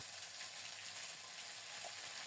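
Ginger and green chili paste frying in hot mustard oil with whole cinnamon, cardamom, bay leaf and cumin, a steady soft sizzle that holds evenly throughout, close and fairly quiet, with no voices.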